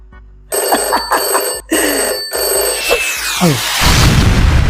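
An old-style telephone bell rings loudly in several quick bursts with brief gaps, then a deep boom rumbles at the end.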